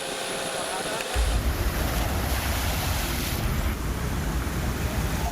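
Surf washing onto the coast at Samudra Road in Galle, a steady heavy roar of breaking sea waves with strong wind buffeting the microphone, loud and continuous after a quieter first second.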